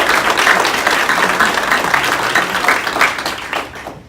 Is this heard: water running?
no